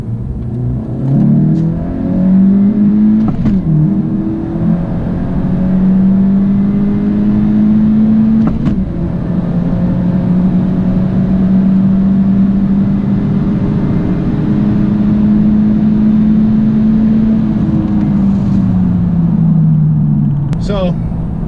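A turbocharged 2017 Honda Civic, tuned with a cold air intake and flex fuel, pulls hard from 30 mph, its engine drone rising steadily through the gears with brief shift breaks, loud and heard from inside the cabin.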